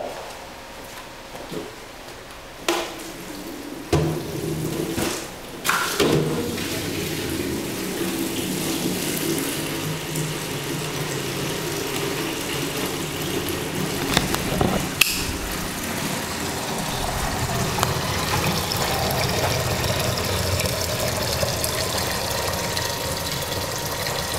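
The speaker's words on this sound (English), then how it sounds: "I'm going to add water." Running water from a tap pours into a glaze mix in a pottery studio, a steady rushing flow that builds after a few knocks and clunks and carries on loudly with no speech.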